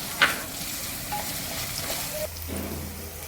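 Capsicum pieces frying lightly in a pan with ginger paste and chopped green chilies, a soft steady sizzle with a brief stirring scrape and a low clatter near the end; no one talks.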